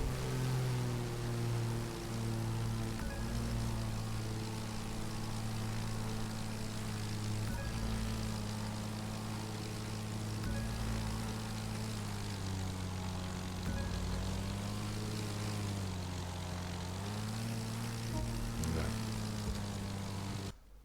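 A propeller plane in The Crew 2 video game flies with a steady, loud droning engine hum throughout, its pitch rising and falling slightly as it maneuvers through aerobatics.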